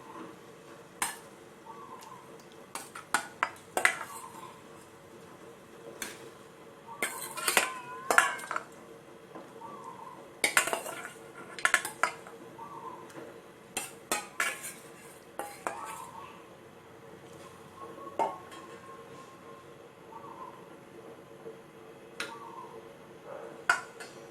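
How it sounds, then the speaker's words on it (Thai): Washed pork ribs are dropped into a pot for pork rib and peanut soup, making irregular clinks and clatters of metal and bones close by, with bursts of knocking and scraping and little talk. "ทีนี้เราก็จะมาใส่ซี่โครงหมูนะคะ"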